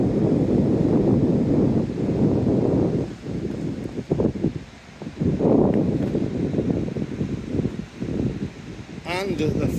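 Coastal wind buffets the microphone on a seaside walk near Thatcher's Rock in Paignton, a loud, steady low rumble with gusty swells and brief lulls, and people talking underneath.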